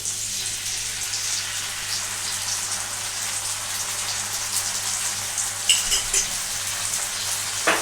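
Chicken sizzles steadily in a pan as barbecue sauce is mixed in, a continuous frying hiss with a few brief stirring scrapes near the end.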